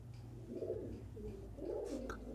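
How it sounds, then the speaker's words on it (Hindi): Madrasi pigeons coo in soft, repeated bursts, two low rolling calls close by over a faint background hum, with no talk. "पहले एक बार कबूतरों पर नज़र मार लीजिए।"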